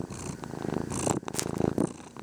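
A pet cat named Rocco purring up close, a steady rhythmic rumble with alternating inhale and exhale pulses, alone and without talk.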